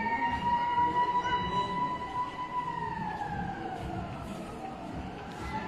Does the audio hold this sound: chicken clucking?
no